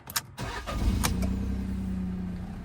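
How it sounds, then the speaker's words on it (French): Fiat 500 small engine started with a key: a few clicks, a brief cranking, then the engine catches and settles into a steady, close idle hum. "C'est vrai que la sonorité est vraiment agréable, hein, pour un petit moteur comme ça."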